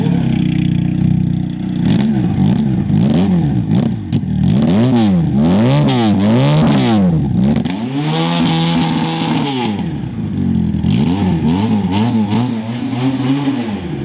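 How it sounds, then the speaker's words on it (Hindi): A Kawasaki Z1000 replica sports motorcycle engine revs hard again and again, pitch sweeping up and down in repeated loud surges, ending in a steady throaty idle. "तो यकीनन ब्रांडेड बाइक जैसा साउंड प्रोड्यूस किया ये कावासाकी Z1000 के रेप्लिका ने"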